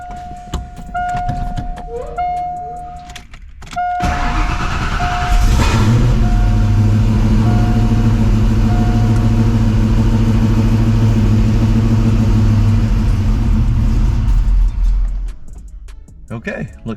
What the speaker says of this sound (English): So we'll see now how the car actually runs